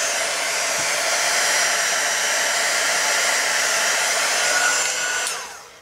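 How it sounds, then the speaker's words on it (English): A heat gun blows steadily while drying a wax and ink craft project, making a loud continuous whoosh that runs alone for several seconds and then tapers off as the gun is switched down. "is dry it with my heat gun."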